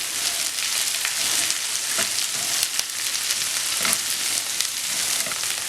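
Okra sautés in a pan with a dense, loud, continuous sizzle like hard rain, crackling and spattering throughout, with no voices.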